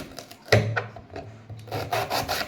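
Knife cutting through a tough, fibrous banana stem, with rough rasping, rubbing strokes and a sharper snap near the start, close and fairly loud, with no talking.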